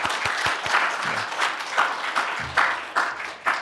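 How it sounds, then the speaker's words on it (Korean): Church congregation applauding volunteers during a Korean Sunday worship service, a moderate clatter of many hands with a few sharper individual claps standing out, steady for several seconds at medium distance. "박수합시다."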